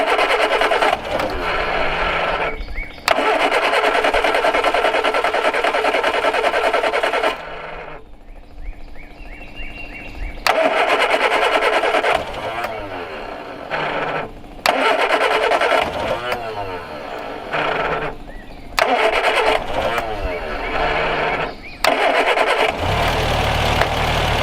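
Classic car engine, an El Camino, MG Midget or Monte Carlo SS that has just run short of fuel, cranks in repeated loud bursts, catching and sputtering between pauses, with someone talking briefly in the gaps.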